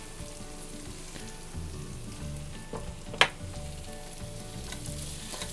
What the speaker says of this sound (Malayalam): ഇതിനി നമുക്ക് അടച്ചു വെച്ച് ഒന്ന് വഴറ്റിയെടുക്കാം.